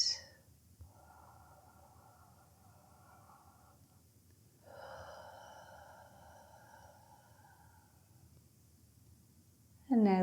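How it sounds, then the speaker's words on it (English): A slow, deep breath in and out during a quiet yin yoga neck and shoulder stretch, soft and airy with a long inhale and a longer exhale, and brief louder rustles at the start and end. "Taking a big breath in and out"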